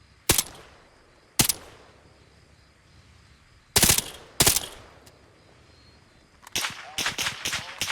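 Heavy, slow subsonic rifle rounds fired in Arma Reforger, with single loud shots spaced apart and then a quicker cluster of several shots near the end, set against quiet background.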